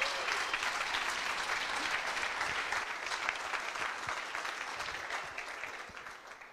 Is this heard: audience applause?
yes